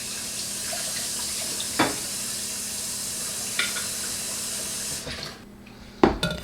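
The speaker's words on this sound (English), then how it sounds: "Let me strain the chickpeas and the cannellinis" Canned chickpeas and cannellini beans rinsed in a strainer under a running tap: a steady wash of water with a few soft knocks and clunks near the end.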